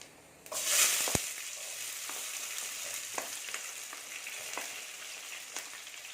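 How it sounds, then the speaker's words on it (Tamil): Shallots and green chillies fry in a pan in oil, a bright hiss flaring loudly at first as they go in, then settling into a steady sizzle with occasional stirring scrapes and taps. "வெங்காயம் நல்லா வதங்கிடுச்சு"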